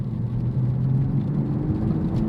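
A 2023 Toyota Supra with manual transmission driving on the road, a steady low engine drone and tire hum heard from inside the cabin at a moderate, even pace, with no voices.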